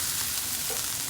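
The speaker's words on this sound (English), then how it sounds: "And now I'm sauteing it" Minced onion, garlic and ginger sautéing in a pan give a soft, even hiss that carries on steadily for a moment with no voices.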